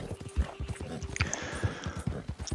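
Horse hooves clip-clop at a steady walking rhythm in Red Dead Redemption 2, each step a soft thud, the footfalls faint and continuous with no other sound.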